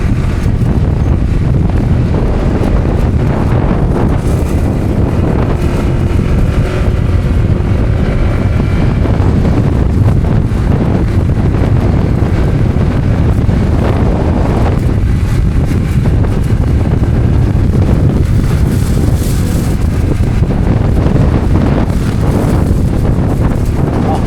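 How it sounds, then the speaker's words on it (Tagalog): Strong wind roars continuously and loudly against the microphone while riding along a road at Bucana, with a low rumbling buffeting that never lets up. "Ang lakas ng hangin, napahali yung mga sanga."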